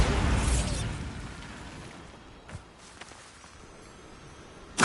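A Bombarda blast spell explodes in Hogwarts Legacy with a loud broadband burst that decays over about a second into quiet ambience, followed by a faint thud and a sharp pop at the end.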